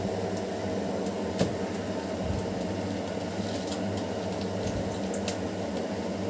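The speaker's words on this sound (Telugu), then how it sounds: "ఇది బాయిల్ స్టార్ట్ అయింది" A pot of kadi curry bubbles steadily at a low simmer, a soft continuous churning close by, with one faint clink partway through and no talking.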